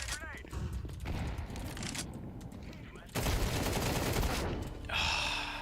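Rapid bursts of gunfire in the Counter-Strike 2 video game, dense crackling volleys that cut off and resume, loud and close with a voice talking over parts of it.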